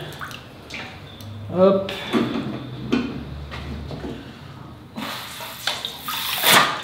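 Water runs and splashes while a part is rinsed during purging of a circuit, a steady wash with gurgles and a louder hissing spray near the end, while someone talks over it.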